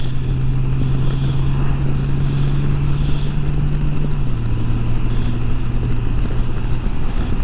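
Honda Gold Wing with DCT gearbox shifting down a gear while riding, a steady engine drone that drops in pitch partway through under constant wind rush, no talking.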